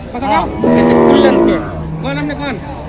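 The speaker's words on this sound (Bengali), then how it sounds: "এই যে এখানে একটি গরু রয়েছে" Cattle at a large buffalo and cattle market in Mirzapur, Tangail, lowing loudly and close by, one long drawn-out moo followed by a shorter second call, with faint market noise behind.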